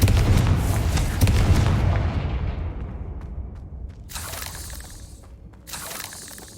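Confringo fire spell detonating in Hogwarts Legacy, a loud deep boom with crackling debris that decays over several seconds, followed by two softer bursts of hissing magical crackle.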